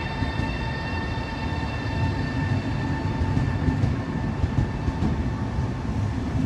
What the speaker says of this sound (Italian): Il treno regionale di Trenitalia, proveniente da Venezia Santa Lucia, è diretto a Rovigo.